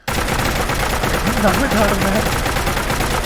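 A shoulder-mounted M2 machine gun fires nonstop in Fallout 4, a loud, dense stream of shots that stays at full level for the whole stretch, with someone talking faintly underneath.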